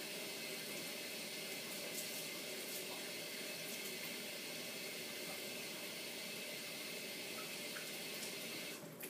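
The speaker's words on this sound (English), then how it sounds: "quickly put your beaker underneath the stream of water" Hot water running steadily from a sink tap into a lab beaker, a continuous broad hiss of flowing water that stays loud and even throughout with no talking.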